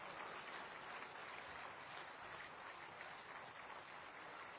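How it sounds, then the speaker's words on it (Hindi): Steady, dense applause from a large audience at a regional industry conclave in Gwalior, India, loud and sustained throughout with no voices standing out. "सरला जी, जरा तालियां तो बजाओ मुख्यमंत्री जी के लिए"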